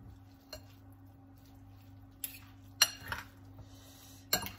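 A utensil stirs spinach mixed through food in a dish, giving a few sparse clinks and scrapes against the dish, close but quiet, separated by near silence, with no talking.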